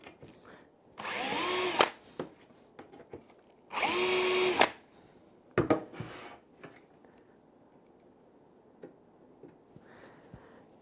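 A power drill fitted with a self-centering hinge bit boring screw pilot holes: two loud sustained whirring bursts of about a second each, followed by a shorter burst with clicks and light handling noise in a quiet room.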